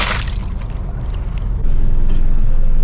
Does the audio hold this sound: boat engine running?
yes